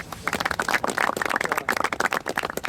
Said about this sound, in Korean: 자 박수 한번 쳐주고